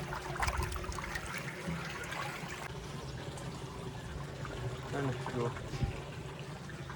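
Dirty rainwater draining out of a household water tank in steady, splashing flow, close and continuous, with a person speaking briefly over it.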